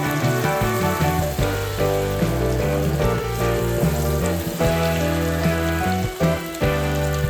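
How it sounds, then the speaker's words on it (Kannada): Cauliflower florets fry in hot oil in a pan over a medium flame, a loud, dense, steady sizzle and crackle that fills the whole stretch without any talking. "ಮೀಡಿಯಂ ಫ್ಲೇಮಲ್ಲೇ ಇಟ್ಕೊಂಡು 2 ಕಡೆ ಬಣ್ಣ ಬದಲಾಗೋವರೆಗೂ, ಕ್ರಿಸ್ಪಿ ಆಗೋವರೆಗೂ ಎಣ್ಣೆಲೆ ಚೆನ್ನಾಗಿ ಫ್ರೈ ಮಾಡ್ಕೊಳ್ಳಿ"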